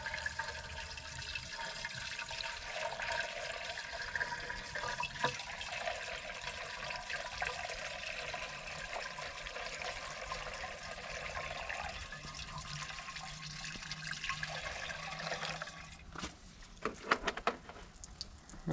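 Steady rushing, splashing water poured into a 3-inch Honda clone trash pump, a continuous pour lasting most of the stretch before tapering into scattered trickles and clunks near the end, with no talk.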